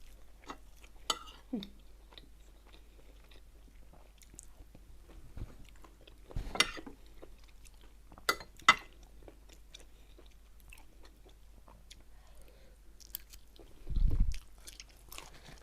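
Chewing and biting on a dish of pine mushrooms cooked with chicken, heard as sparse, faint, close mouth sounds with soft crunches scattered through a quiet room and a louder low burst near the end.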